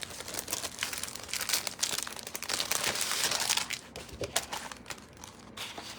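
Crinkling and rustling of Peaceful Garden 12 by 12 glimmer paper being handled, a busy close crackle with bursts of louder crumpling throughout.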